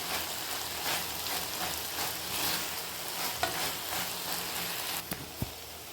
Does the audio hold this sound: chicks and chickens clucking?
no